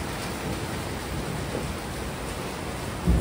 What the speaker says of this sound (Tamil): பாருங்கள் மழையும் வந்துடுச்சு. நல்லா மழை பெஞ்சிட்ருக்கு.